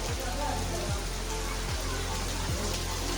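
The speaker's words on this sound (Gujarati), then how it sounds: "ગજબ વરસાદ ચાલુ થઈ ગયો છે અને વરસાદથી ફુરસત જ નથી" Heavy, constant rain pours down near the Haldighati battlefield in Rajasthan as a steady broadband wash with faint recurring low thumps beneath.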